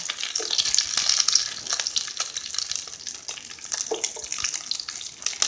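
Long-sliced onions hit hot tempering oil and fry with a loud, continuous crackling sizzle, close up, with occasional stirring scrapes and no talk.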